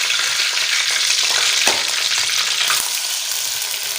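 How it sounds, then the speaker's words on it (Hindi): Boneless chicken frying in hot ghee gives a steady, loud sizzle with a couple of brief clinks from stirring, close up and without speech. "अभी हम डाल लेते हैं बोनलेस चिकन।"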